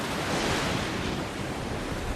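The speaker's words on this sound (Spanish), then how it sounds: "Las olas continúan golpeando al Trashman y la tripulación lucha por sus vidas" Ocean waves pound against the sinking sailboat Trashman in a constant, loud wash of surf and wind roar, with no voices.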